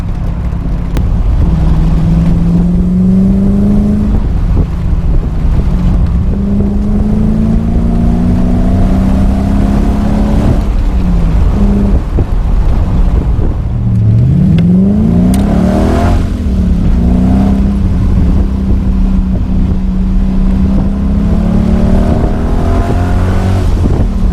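A TVR sports car engine heard from inside while driving on a road, loud and continuous, rising and falling in pitch through repeated gear changes and accelerations, with wind noise.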